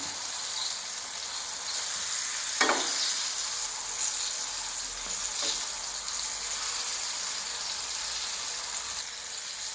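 Jackfruit pieces fry in hot oil with a steady, close crackling sizzle, broken by a couple of brief clinks as the pieces are turned.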